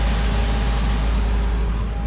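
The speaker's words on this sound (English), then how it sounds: "It's a cleaning truck." A road cleaning truck runs nearby as a steady, loud low rumble with broadband hiss, continuous and unchanging throughout.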